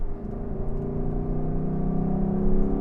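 Naturally aspirated V8 of a Lexus LC500 growling steadily under light throttle, a smooth continuous engine drone that swells slightly toward the end, heard close from inside the car with no talk.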